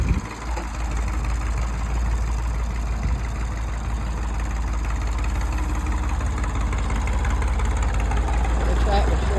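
A 1964 or 1965 tractor engine idles with a steady low throb and a mechanical clatter, fairly loud and unbroken, with talk heard over it.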